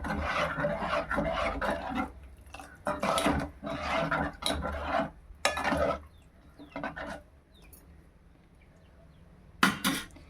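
A spoon scrapes and rasps around a pot of okra tamarind curry in repeated stirring strokes, near and fairly soft, with short pauses between bursts and a final scrape after a quiet stretch.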